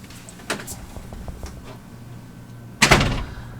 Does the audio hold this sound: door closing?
yes